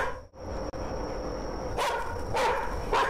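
A loud in-game dog barks from a Japanese karaoke horror game, with a few sharp broadband bursts near the end over steady background ambience.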